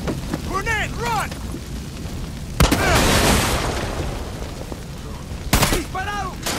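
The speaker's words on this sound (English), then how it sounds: "Grenade, run!" A grenade explodes in the video game Far Cry 6, a sudden loud blast with a rumbling tail, followed later by a second sharp burst, while voices shout in the background.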